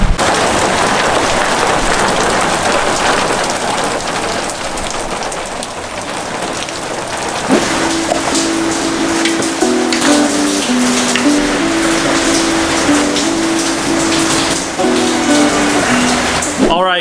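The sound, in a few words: hail and rain falling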